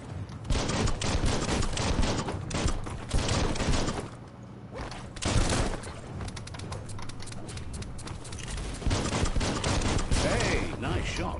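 Biomutant video game combat with rapid bursts of gunfire layered over busy music and effects, loud and dense throughout with brief lulls between volleys.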